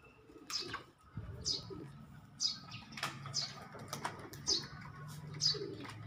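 Repeated bird calls and wing flaps at about one-second intervals over a low rumble, consistent with pigeons close by.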